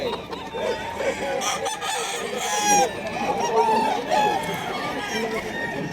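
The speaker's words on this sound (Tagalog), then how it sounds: "Ang ganda ng mga manok dito mga boy." Chickens cluck and a rooster crows amid a busy, noisy crowd at a pet market in Bulacan, Philippines, with voices chattering in the background throughout.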